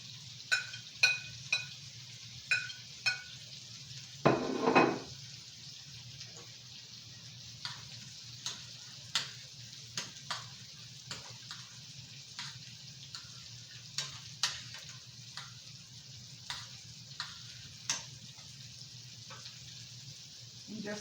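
Mushrooms simmering in gravy in a pan give a steady low bubbling sizzle, broken by sharp repeated clicks and taps of a utensil stirring throughout, with one louder clatter early on.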